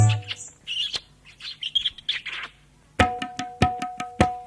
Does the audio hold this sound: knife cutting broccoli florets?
no